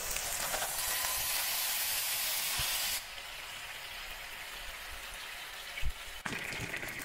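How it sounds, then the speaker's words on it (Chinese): Fatty snowflake beef steak frying in a pan without oil, a loud, steady close sizzling hiss that drops to a quieter crackle partway through, with a couple of soft knocks, no voices. "直接下锅煎一煎，不用放油"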